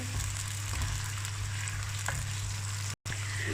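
Finely chopped onion frying in hot oil in a pan while cooking masoor dal: a steady, soft sizzle with light crackling and a brief dropout near the end.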